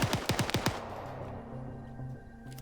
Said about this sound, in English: Potato should hear those gunshots